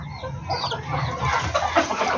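Several chickens cluck and murmur close by in a short, busy burst of overlapping calls.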